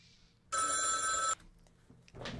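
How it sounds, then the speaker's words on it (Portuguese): A telephone rings in one loud, steady burst lasting under a second, then stops, leaving a quiet room with faint background noise. "Meu telefone que tocou."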